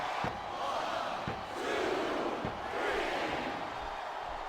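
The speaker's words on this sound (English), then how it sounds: "Wow, listen to that chant, Taz." A video game arena crowd in WWE 2007 chants and roars steadily right after a pinfall, a dense continuous wash of voices with a few sharp thuds, loud and close throughout.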